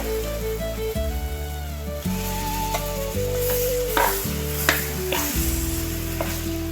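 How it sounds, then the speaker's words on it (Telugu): Curry leaf chutney being stirred into hot tempering just off the stove, with steady close sizzling and frying crackle under repeated spoon scrapes and stirring knocks, loud and continuous without speech. "స్టవ్ ఆఫ్ చేసుకుని ఇప్పుడు ఇందులో పచ్చడి వేసేసుకోండి."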